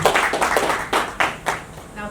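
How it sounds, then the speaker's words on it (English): Scattered, uneven hand clapping from a small event audience acknowledging the We Clean project, with distinct separate claps rather than a full roar, fairly close. "A big round of applause for the We Clean project."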